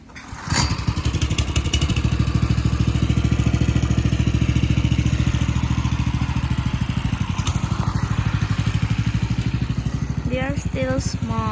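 A tractor engine chugs loudly and steadily close by, its rhythmic thrum running throughout, with a brief voice near the end.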